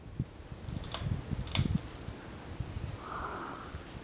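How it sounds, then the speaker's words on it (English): A Canarm Mystic 42-inch ceiling fan turns slowly on its low setting with its light on, giving a soft steady hum and faint airy whoosh, with a few light clicks and knocks near the start. "for low, which I'll show with the fan and light on"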